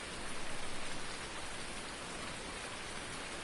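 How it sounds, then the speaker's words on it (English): Steady rain pours down in Farming Simulator 19, a dense, even hiss with no breaks that lasts the whole stretch at moderate loudness, with no voices over it. "Focus on us beating this rain and making actual crop profits."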